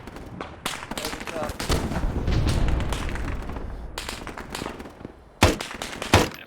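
Gunfire erupts during a military operation, with sharp loud reports and a couple of heavy close bursts near the end over a rumbling background, with radio-style voices talking.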